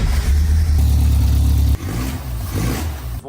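A 1965 Volvo 1800 S engine revs hard and steady at close range, then drops off sharply partway through into a lower, uneven idle with a few blips, no voices present.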